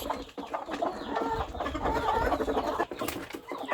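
Chickens cluck and murmur close by, several birds overlapping in a busy, continuous chatter with occasional sharper calls.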